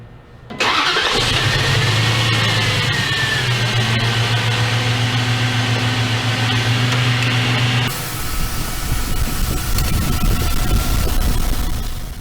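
A Dodge Dakota or Durango engine cranks and starts, then runs loud and close at a steady idle with a shift in tone partway through, alone without voices.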